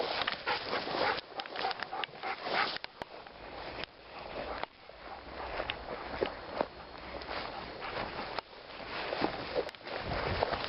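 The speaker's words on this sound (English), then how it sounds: "Dogs." Dogs moving about on an outdoor nature walk under open sky, with close sniffing, rustling and footsteps through brush, occasional small whimpers, steady and fairly loud throughout.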